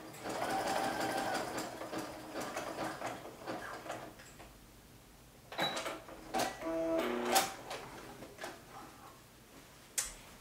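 Sewing machine running in bursts to close the elastic casing opening on a pair of boho pom-pom-trimmed shorts, with short stitching runs, pauses and a couple of sharp clicks, heard close up.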